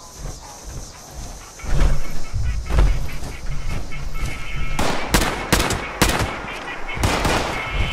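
Gunshots ring out in the Fallout 76 video game, a few sharp, loud reports toward the end following a stretch of ambient game rumble, with several shots fired in quick succession.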